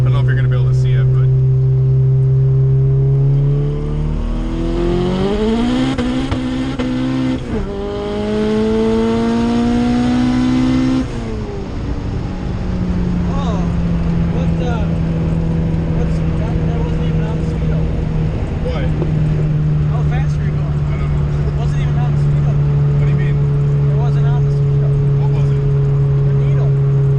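A car fitted with a Hondata S300 and boost solenoid pulls hard in third gear, engine rising in pitch, then shifts into fourth and climbs again, loud and close inside the cabin with people talking.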